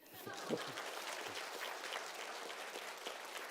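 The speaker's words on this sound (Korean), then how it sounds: "박수 한번 쳐주세요" An audience at a lecture claps, a short moderate burst of applause with a few faint chuckles, fairly quiet and distant-sounding.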